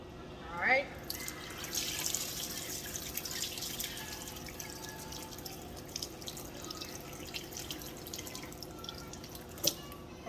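Okra being washed under a running kitchen tap for Haitian okra sauce: a steady, soft trickle of water with scattered splashes and drips, while a person speaks quietly over it.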